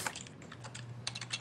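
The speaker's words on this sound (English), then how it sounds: "Whoever's typing, mute yourself." Clicky computer keyboard typing, a quick patter of keystrokes with bursts and brief pauses, fairly faint over a steady low hum during Legend of Korra gameplay.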